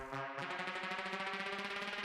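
A bright synth sound with a steady pulsing rhythm swells and sustains, loud and up front, with rising layered tones and no voices.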